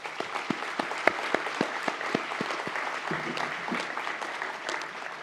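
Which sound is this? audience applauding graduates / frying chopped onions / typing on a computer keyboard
audience applauding graduates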